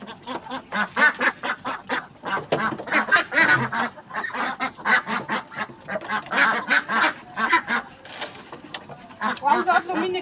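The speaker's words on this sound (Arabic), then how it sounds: "فتعالوا بقى نفطر البط الاول" Ducks quack and honk busily while being fed on a sunny rooftop, with a close, repeated chorus of calls and someone talking over them throughout.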